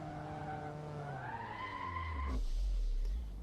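Assetto Corsa RX5 race cars passing a stranded car in the gravel at Ottawa Club, their engine notes climbing in pitch, then a low rumbling thud, close and brief with no talk.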